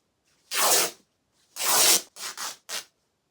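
Scissors cutting through bedsheet fabric: four close, rasping snips, two longer strokes followed by two quick short ones, separated by silence.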